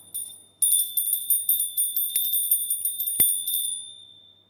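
Small bell rung rapidly over and over, a bright high jingling series of strikes lasting about three seconds, close and clear, then fading into quiet.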